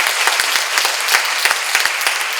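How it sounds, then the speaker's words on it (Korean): Worshippers in a Korean church seminar clap hard together, a loud, busy applause with distinct close hand claps punctuating the crowd sound throughout. "박수 세게 쳐요."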